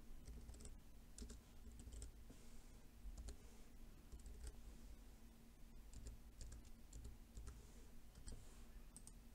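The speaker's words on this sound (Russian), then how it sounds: "Так, и два раза пишем новый пароль." Rapid, steady keystrokes on a computer keyboard as a new password is typed in, close and fairly quiet over a low background hum, with no voices.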